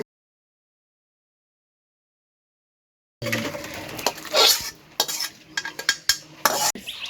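A cooked bottle gourd and shrimp curry is tipped out of a pan after three seconds of silence, with a spoon scraping and clanking against the metal in quick irregular bursts.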